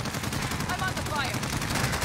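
Video game gunfire crackles in a dense, steady stream for about two seconds, with rapid shots blurring together over a busy mix of other game sounds.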